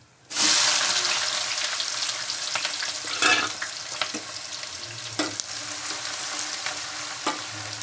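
Whole spices, shahjeera, cumin and chopped onion sizzle steadily in a pan, a loud continuous fry that starts abruptly, with occasional stirring clatters and scrapes.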